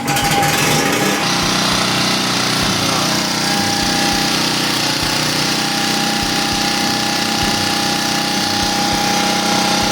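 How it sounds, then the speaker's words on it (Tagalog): A generator fitted with a new carburetor catches after a brief rattling start, then runs loud and close with a continuous, buzzy engine drone. "Subukan nating paandarin ngayon yung ating generator gamit yung bagong karburador."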